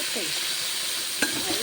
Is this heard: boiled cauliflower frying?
yes